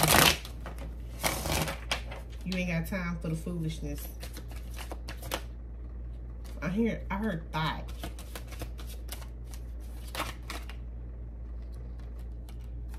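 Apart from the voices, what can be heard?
shuffling cards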